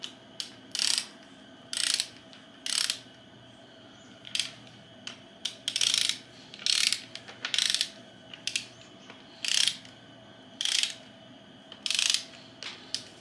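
Ratchet clicking in short repeated bursts while tightening bolts on an AMC 360 V8 short block to torque, roughly a dozen quick pulls close up with brief pauses between them, no voices.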